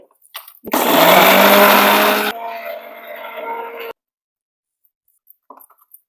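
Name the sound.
mixer grinder grinding spices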